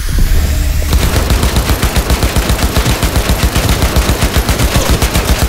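Rapid automatic gunfire in Cyberpunk 2077 rattles loud and close in a steady, evenly spaced burst of shots aimed at the player, running continuously after a brief lull with no talking.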